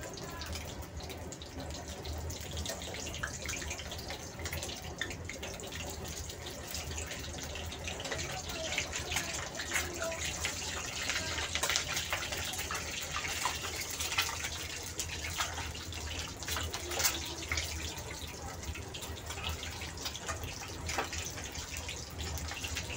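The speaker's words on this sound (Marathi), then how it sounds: "आपले मस्तपैकी अंडे बॉईल होत आहेत" Eggs boiling in a pot of water on a home stove, a continuous bubbling, gurgling wash with small pops and ticks, steady and close throughout.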